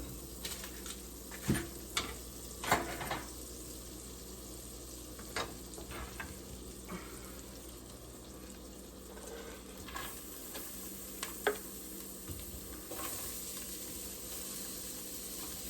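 Garlic and onions sizzle and fry quietly in a pan, a soft steady crackle with scattered light clinks and stirring taps throughout, no voices.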